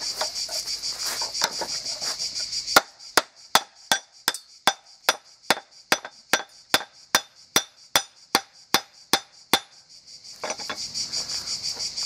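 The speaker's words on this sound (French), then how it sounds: "je vais essayer de donner quelques coups de marteau dessus." A hammer strikes a piece of homemade micarta about fifteen times in a steady sharp rhythm, each blow a crisp, ringing knock, close, with buzzing insects audible before and after.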